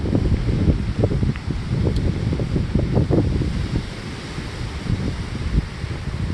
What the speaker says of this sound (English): some white caps, so that easterly wind blowing in